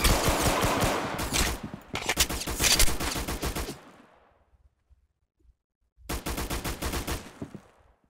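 Rapid bursts of gunfire in the Roblox shooter Arsenal, loud and close, firing in dense volleys, pausing into near silence for a couple of seconds, then resuming in another fast rattling burst.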